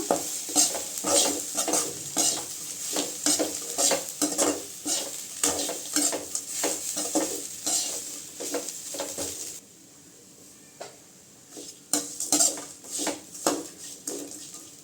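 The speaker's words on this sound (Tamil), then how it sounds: "அப்புறம் நம்ம ஃப்ரை பண்ண பதட்டை போட்டுக்கலாங்க போட்டு நல்லா கலந்து விட்டுக்கலாங்க" Fried bread pieces being stirred into a tomato mixture in a pan for Tamil-style bread chilli, with repeated scraping and clinking strokes over a steady sizzle, close and fairly loud, briefly pausing before the stirring resumes.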